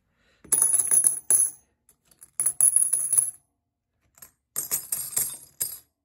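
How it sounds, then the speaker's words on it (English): Junk silver coins clink and drop onto one another in three close, bright bursts of metallic chinging, separated by short quiet gaps. "I love the sound of silver dropping on itself."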